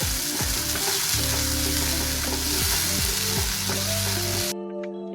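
Spice paste fries loudly in hot oil, a dense continuous sizzle with stirring scrapes throughout, then cuts off abruptly near the end, leaving a quieter hum.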